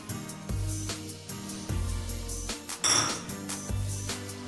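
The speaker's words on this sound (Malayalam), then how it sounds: "എന്നിട്ട് നന്നായിട്ടൊന്ന് ഇളക്കി കൊടുക്കുക." A spoon stirs chicken shorba with chopped coriander leaves in a metal pot, making a series of close, rhythmic scraping clinks and knocks against the pot.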